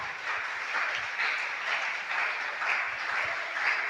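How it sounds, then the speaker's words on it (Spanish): A church congregation at a Pentecostal Sunday school in a hall applauds steadily, a dense, sustained wash of many hands clapping at moderate loudness, with no voices clearly standing out. "Bríndele ese aplauso fuerte a nuestro Dios."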